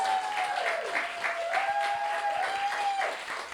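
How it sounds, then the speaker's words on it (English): A crowd claps steadily for a speaker coming up at an event about the Windrush scandal, moderately loud applause sustained throughout, with a faint tone running underneath. "Round of applause."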